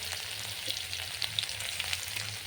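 Chopped garlic sizzling in hot oil left from frying fish, with spices added for a fish curry; a steady close crackle and hiss with faint stirring, no talk.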